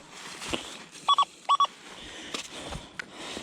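Metal detector beeps on a forest edge while searching for relics, two pairs of short sharp electronic tones over quiet outdoor rustling and faint background noise.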